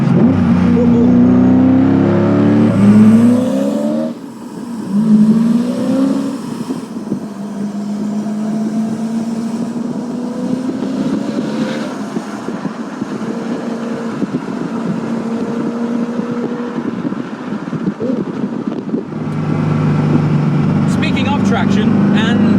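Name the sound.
Koenigsegg CCX supercharged engine accelerating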